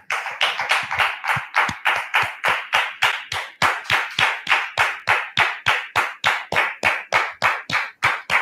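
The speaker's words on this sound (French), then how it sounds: "Merci, public, de la recevoir sous vos applaudissements." A talk-show audience claps in a steady, evenly spaced rhythm to welcome a guest, the sharp claps continuing for several seconds with no voices over them.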